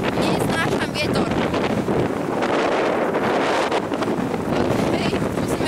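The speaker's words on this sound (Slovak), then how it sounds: "neznášam vietor. Neznášam vietor." Heavy wind buffeting a microphone outdoors, a loud continuous rumbling roar with gusty swells that persists through the whole stretch, with no other sounds coming through clearly.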